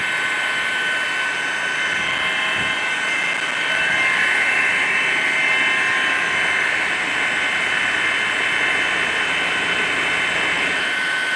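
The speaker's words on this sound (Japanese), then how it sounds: "この警察のヘリコプターはこの高度を保っているものと思われますけれども" Police helicopter hovering over an earthquake rescue, its rotor and turbine drone steady and loud throughout, a continuous whine with dense low churning and no talk.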